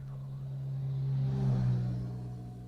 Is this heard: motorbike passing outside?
yes